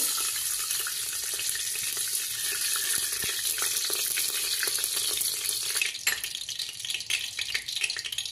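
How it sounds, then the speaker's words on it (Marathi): Half a bowl of ghee goes into a hot pan for Maharashtrian jaggery and cracked-wheat lapshi, giving a steady bright sizzle and crackle with a few soft clinks partway through. "अर्धी वाटी तूप टाकणार आहे।"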